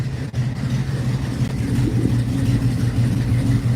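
Engine of a 1963 Chevrolet Impala running steadily in a shop, a loud, close, low rumbling idle with slight rises in pitch, no talking over it.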